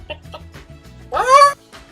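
A person imitates a hen, giving a few soft clucks followed by a louder, drawn-out squawk and more quiet clucks close by.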